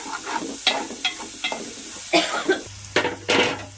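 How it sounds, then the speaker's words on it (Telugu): A spoon stirs onions and green chillies with turmeric in a frying pan, giving a series of close, distinct scraping strokes over a soft sizzle, about eight separate stirs in a short burst. "పసుపు కొంచెం వేసారు, మిక్స్ చేస్తున్నాము."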